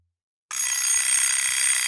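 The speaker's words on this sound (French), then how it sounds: "Ah, le réveil sonne." An alarm clock suddenly starts ringing after a moment of silence, a continuous, shrill, rapid electronic ring that stays steady and fairly loud.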